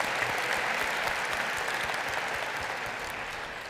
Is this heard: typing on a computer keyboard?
no